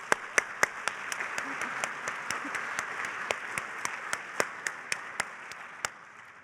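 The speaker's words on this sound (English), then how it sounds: "Let's give her another round of applause." Audience applause at a Fels Institute of Government graduation ceremony, a steady wash of clapping from a crowd with sharp nearer individual claps punctuating it throughout, moderately loud and without speech.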